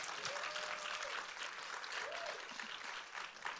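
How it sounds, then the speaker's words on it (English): Conference audience applauding in a large hall, dense sustained clapping that fills the room, with faint voices and a cheer or two mixed into the steady roar. "Give them a round of applause."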